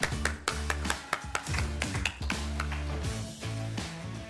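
Clapping rings out in a church during a Sunday worship service, a scattered burst of hands, uneven and fairly close, heard over a steady sustained musical tone.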